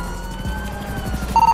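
Police car siren in a GTA roleplay game, a steady wailing tone running throughout at moderate distance, with a short louder burst of electronic beeps near the end.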